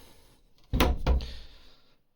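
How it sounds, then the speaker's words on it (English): A wooden bait box door swings shut onto its magnetic catch, giving two close, solid thunks in quick succession with no talk. "Door stays shut with magnet."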